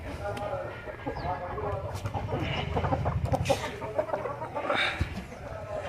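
A Peru cross rooster on a poultry farm clucks and calls repeatedly at close range, over a background of other fowl and some voices.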